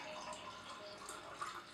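Yeast slurry is poured gently into a jar while washing and saving yeast, a quiet liquid trickle with light drips and small splashes over a soft, steady flow, with no talk.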